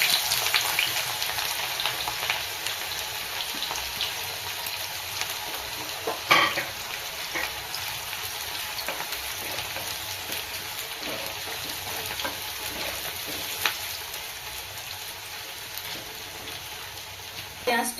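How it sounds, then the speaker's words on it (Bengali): Onions sizzle in hot mustard oil in a kadai, a steady crackling hiss that runs throughout with occasional louder spits and utensil clinks. "তেল গরম হয়ে গেছে, পেঁয়াজটা দিয়ে দেবো"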